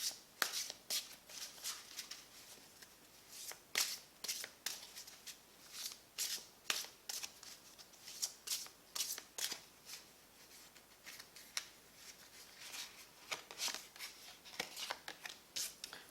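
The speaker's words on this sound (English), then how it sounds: "Now I'm going to pull some more cards." Tarot or oracle cards shuffled and pulled for a pick-a-pile reading, a steady run of soft riffling flicks and snaps, close and fairly quiet, with no talking.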